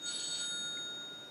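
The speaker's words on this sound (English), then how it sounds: "That's my phone." A phone rings indoors in a short electronic trill, clear and fairly loud, fading away within about a second with no talking.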